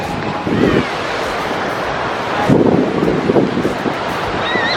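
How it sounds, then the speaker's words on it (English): Wind on an ocean beach on the Gold Coast, Australia, rumbling against the microphone in loud gusts over a steady background of surf. "The wind is super annoying."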